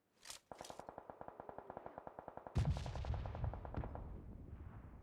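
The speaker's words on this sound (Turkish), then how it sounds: "Keskin atıyor biri." A burst of rapid gunfire in PUBG Mobile rattles off in a steady, evenly spaced string of about twenty cracks. A heavier blast and a few scattered shots follow and trail into an echoing tail, with no voices.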